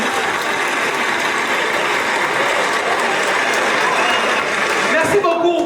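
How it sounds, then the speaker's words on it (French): Dense, sustained clapping from a crowd at a 50th birthday celebration fills the whole stretch, steady and loud, with a few voices rising near the end. "Applaudissez pour Maman Chantal"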